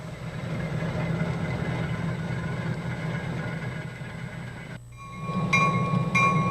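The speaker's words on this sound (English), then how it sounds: "The turntable lines up with the tracks so the locomotive can easily get on and off." Locomotive on a roundhouse turntable gives a steady, loud rumbling drone of engine and machinery that dips briefly before swelling again, with metallic tonal whines near the end.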